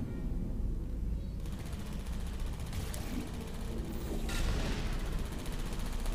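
A Portal 2 turret firing: a steady hiss of rapid gunfire that rises and falls, with sharper bursts in the middle, over a constant low background rumble.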